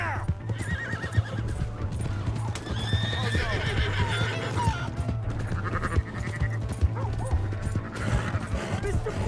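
A horse in Red Dead Redemption 2 whinnying and clip-clopping at a gallop, rapid hoofbeats with repeated shrill neighs up close, shouting voices and barking mixed in.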